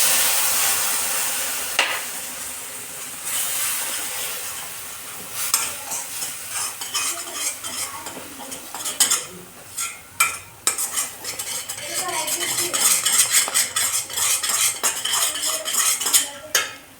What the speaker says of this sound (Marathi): आता यामध्ये टाकू आपण दूध आपलं गरम केलेलं